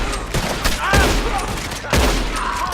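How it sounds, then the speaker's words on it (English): Gunshots fired at a lock in Red Dead Redemption 2, sharp cracks at intervals over a steady background with brief shouting voices in between. "Come on, shoot the lock!"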